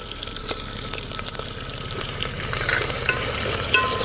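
Small shallots and ground ginger-garlic paste fry in a pan with a constant bubbling sizzle, the hiss growing slightly louder toward the end, with occasional stirring scrapes and no voices.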